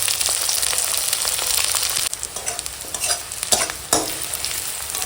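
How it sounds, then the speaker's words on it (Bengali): Onion and green chillies fry in a pan with a steady, close sizzle, while a spatula stirs and scrapes through them in occasional louder strokes. "পেঁয়াজটা ভাজবো পেঁয়াজ কাঁচা লঙ্কা একসঙ্গে দিয়ে দেবো"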